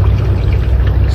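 Spring water flowing strongly on a rural farm in Makilala, Cotabato, a loud, close, steady rushing gush with no talk over it.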